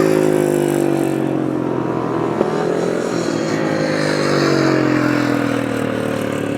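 Grasstrack racing motorcycles at the 2018 Battle of Britain meeting, a loud sustained engine drone with the leader off the throttle cruising to the finish line, the pitch sliding gradually as bikes pass close by.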